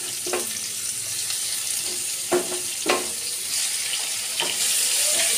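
Chopped onions hit hot oil seasoned with panch phoron in a home kitchen, a continuous bright sizzle broken by a few sharp clinks and scrapes as they are stirred, growing louder near the end.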